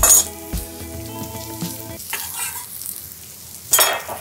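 Onions and thyme frying in butter in a pan, a close steady sizzle with scattered stirring scrapes and a brief clink near the end, no voices.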